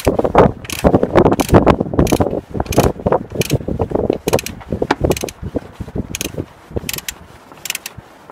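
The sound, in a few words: torque wrench ratcheting while changing oil filter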